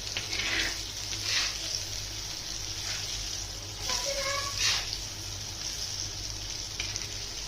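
Raja Rani fish frying in a pan over low heat after being flipped, giving a steady broadband sizzle with a few brighter crackling bursts and a low hum underneath.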